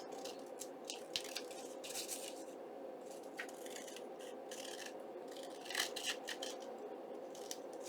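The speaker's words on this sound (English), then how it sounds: "I'm going to trim it out. So just easily trimming this out." Scissors trim through paper for a junk journal, a steady run of close, crisp snipping and rubbing cuts repeating over several seconds with no voices.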